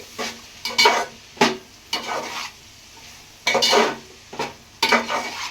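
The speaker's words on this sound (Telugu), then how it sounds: "మనకి ఈ సొరపిడుపు మొత్తం కలిసేటట్టు కలిపేసుకోవాలన్నమాట" Shark fish puttu being mixed with onions in an oiled pan, a series of close, distinct spatula scrapes and clinks against the pan in irregular strokes over a faint sizzle.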